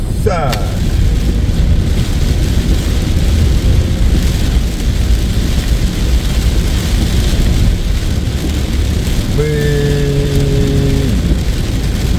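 Steady, dense heavy rain hisses throughout in East Jakarta, with a brief vehicle sound near the end and faint voices in the background.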